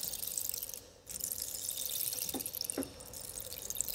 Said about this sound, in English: Possibly multiple rain sticks.